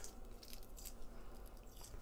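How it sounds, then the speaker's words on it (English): Hard-boiled eggs, chilled in cold water, are peeled by hand close up, with soft wet squishes and faint crackles of shell breaking away in a quiet kitchen. "So we're peeling the eggs, and we're going to put them in a bowl here on the side."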